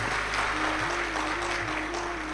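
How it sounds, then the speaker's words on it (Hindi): A large crowd at a Shiv Mahapuran religious discourse in Sehore claps loudly and continuously, a dense wash of applause holding steady throughout with no pause. "एक बार जोरदार ताली बजाकर साथ ही पाए।"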